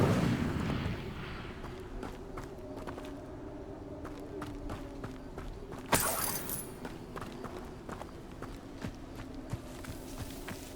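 In the Hogwarts Legacy video game, the Accio, Levioso and Incendio spells are cast, producing one sharp magical burst midway among footsteps, soft thuds and game ambience, with a voice calling out the spells.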